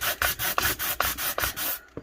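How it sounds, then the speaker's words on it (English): Rhythmic hand sanding of a resin cup: about nine short, raspy back-and-forth rubbing strokes against the hard surface, close and even in pace, then a pause and one last stroke. "I got one piece of that chunky way down here that I'm going to try and sand out."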